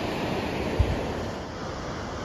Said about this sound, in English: Look how beautiful. This river is just